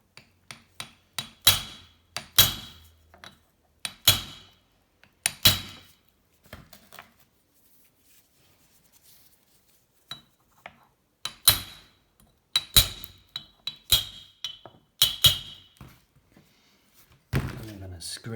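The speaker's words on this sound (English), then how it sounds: "I'm gonna hammer everywhere I can get to." Hammer blows on parts of a 1984 Honda C70 E Cub street cub, a tsunami-damaged motorcycle, land in quick irregular bursts of sharp metallic knocks, loud and close, with a quieter pause midway.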